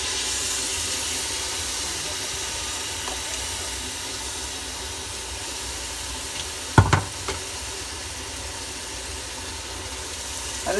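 Ground tomato paste poured into ginger-garlic paste frying in oil for chicken drumstick biryani, a steady hissing sizzle with a brief clatter of utensils midway, no one talking.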